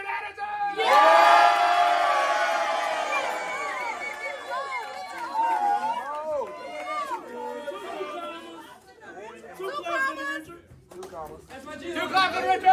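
A meeting crowd cheers and whoops loudly to welcome a speaker to the stage, the roar rising at once and then fading into scattered shouts, claps and chatter.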